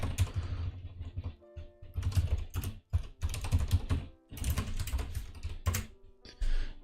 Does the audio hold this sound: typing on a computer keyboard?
yes